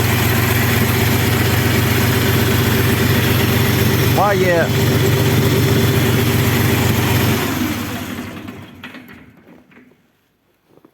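A Skaut 254 tractor engine idles with a steady low rumble, a brief squeak partway through, then fades out; someone speaks a word over it.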